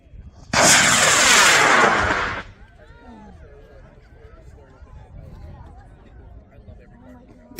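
A model rocket with an I-285 motor, heavier at 5 pounds, launches with a loud roaring burn of about two seconds. A crowd's cheers and voices follow in the background.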